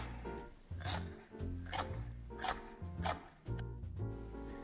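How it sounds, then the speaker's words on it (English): A knife slicing through a flattened chicken breast on a board, heard close up as four or five evenly spaced rasping cuts, each a short scrape followed by a soft tap. "And I just slice."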